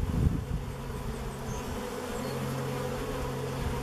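Honeybees buzz around an old beehive opened after more than thirty years, a close, continuous drone of many wings with a few louder passes near the start.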